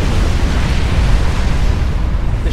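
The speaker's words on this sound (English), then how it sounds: "Down comes the nuke. Boom!" A nuclear missile strike explodes in the real-time strategy game Supreme Commander, a loud, sustained roaring boom with heavy low rumble that fills the whole stretch without letup.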